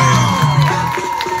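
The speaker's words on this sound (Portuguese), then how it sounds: "Pode bater palmas que a Carol merece!" Crowd cheering and applause at a live surprise celebration for a 17-year-old daughter in Vila Ede, Zona Norte, a dense, loud wash of whoops and clapping with voices mixed in, filling the whole moment.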